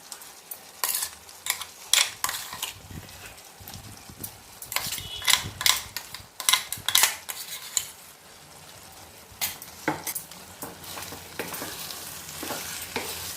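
Ground gongura leaf paste is stirred and fried into chicken curry in a pan, with bursts of sizzling and repeated scraping and clinking of a spoon against the vessel, close and irregular.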